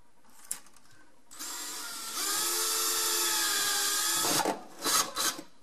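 A power drill driver with a 7/32 bit drills an anchor hole, starting with a short rising whir, then a steady, loud, close whine for a few seconds, and ending with brief tool handling knocks.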